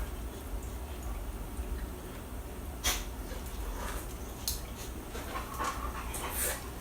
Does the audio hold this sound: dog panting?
yes